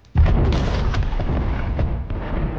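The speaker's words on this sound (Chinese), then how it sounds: "随着剧烈的爆炸声响起，" A bomb explodes in a Godzilla film scene set at an Antarctic base, a sudden loud boom followed by a sustained, rumbling roar of blasts and debris that continues throughout.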